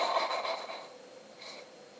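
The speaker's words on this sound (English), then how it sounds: "but I have to blow my nose" A person blowing their nose into a tissue, close and fairly loud: a breathy, rasping burst over the first second that fades, then a short second puff, with no talk.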